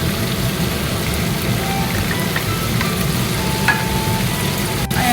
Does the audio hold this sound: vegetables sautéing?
yes